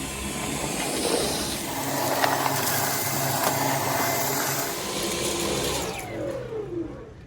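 A Dyson bagless vacuum cleaner sucks up sand with a loud, steady whine and rushing airflow up close, then the motor winds down at the end.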